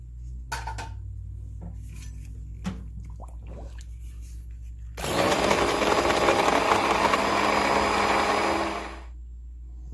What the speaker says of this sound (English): And then we're going to use the immersion blender